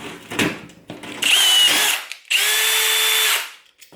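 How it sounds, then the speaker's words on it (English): A power drill fitted with a rivet gun attachment sets a rivet in two loud, sustained whining bursts, each about a second long, with short handling clatter between them. "that's one compared to using our little drill attachment"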